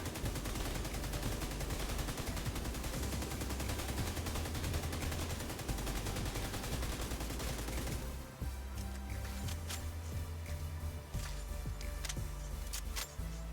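Rapid automatic gunfire hammers at a shooting range in The Division 2, a dense continuous burst for several seconds, then sparser sharp shots over a low rumble.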